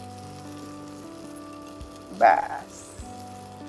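Tomato dropped into a hot pan with oil bursts into a brief loud sizzle that fades within a second, with a soft clunk of utensils before and after and a short spoken word nearby.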